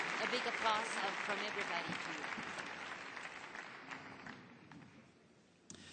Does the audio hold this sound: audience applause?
yes